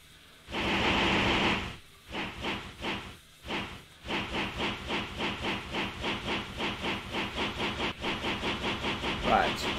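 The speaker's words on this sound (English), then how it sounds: "Right, quick train ride back to the factory." Steam train in Minecraft chugging along a railway, a loud hiss of steam followed by a steady rhythmic run of puffs that settles into a regular beat, with no talk over it.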